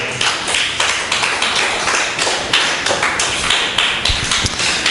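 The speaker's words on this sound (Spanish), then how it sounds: "Denle un aplauso al Señor fuerte." A church congregation applauds loudly and steadily, a dense continuous patter of many hands clapping up close, with a few heavier thumps and no talk over it.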